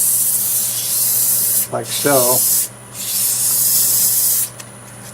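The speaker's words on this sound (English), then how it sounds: "And for sanding, I'll sand this area in" Apple wood bowl sanded on a lathe, a steady close hissing rub that stops for a moment while a voice speaks briefly, then resumes and stops again near the end.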